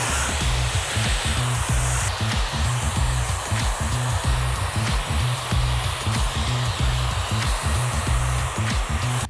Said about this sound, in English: finish with my diffuser.